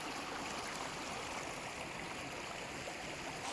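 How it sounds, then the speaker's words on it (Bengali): River water rushes strongly around a boat moored at a group camping spot, a loud, steady, full-bodied roar of flowing water that continues unbroken, with no voices over it. "এত সুন্দর জলের কলরব শব্দ"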